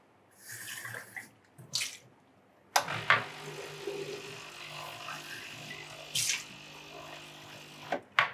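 Water flushing through a home espresso machine: several short gushing bursts followed by a longer, steady rush of running water with dripping and clattering in between, close and moderately loud, with no one speaking.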